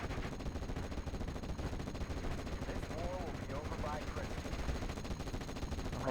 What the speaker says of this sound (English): The 57mm is engaging the Firefly.